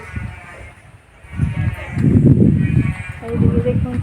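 Tethered goats on a farm bleat in a few wavering calls that rise and fall at close range, partly mixed with people talking nearby.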